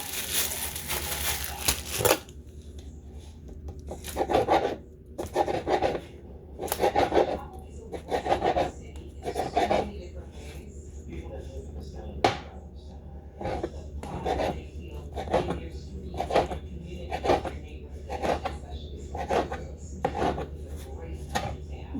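Repeated crunchy sawing strokes of a knife cutting through a loaf of bread, close and rhythmic, with brief pauses between cuts.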